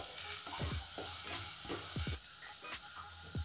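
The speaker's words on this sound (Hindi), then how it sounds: "अब इसमें हम जो कैरेट लिए थे, कैरेट को डाल देंगे। अब इसको हम 1 मिनट फ्राई कर लेंगे।" Carrots frying in a pan for sweet corn soup give a steady broadband sizzle, with repeated scraping stirs of a spoon at a slow, regular rhythm, close and fairly loud.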